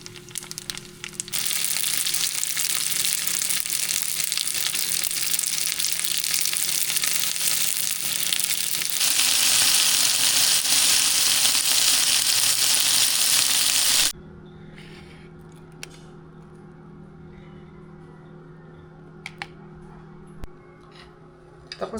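Enoki mushroom rolls fry in oil in a pan with a loud, steady sizzle that drops abruptly to a quieter crackle partway through.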